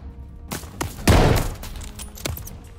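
Gunfire bursts in the Call of Duty: Vanguard campaign, with sharp scattered shots and one loud, heavy blast near the middle amid a noisy battle backdrop.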